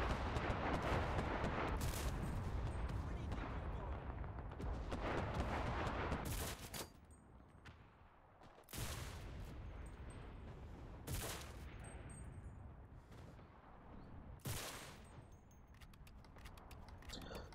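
Bursts of gunfire in a free Pacific War campaign video game, loud rapid volleys filling the first several seconds, then separate sharp shots punctuating a quieter stretch, with a faint voice underneath at times.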